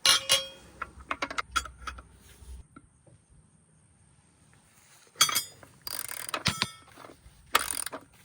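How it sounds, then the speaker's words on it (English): A ratchet with a wrench on its handle works a tight bolt loose on a Suzuki 150 outboard motor, giving bursts of quick clicking and metallic clinks separated by a quiet pause, close and fairly loud. "I'm gonna use a wrench, put it on the end of the ratchet"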